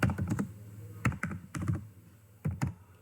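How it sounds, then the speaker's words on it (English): Typing on a computer keyboard, close and fairly quiet, with short clustered bursts of key clicks separated by brief pauses. "typing the letter."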